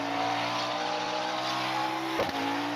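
Onboard engine sound of a McLaren 720S GT3 in a racing sim video game, a steady loud engine drone at sustained revs with a brief shift blip near the end.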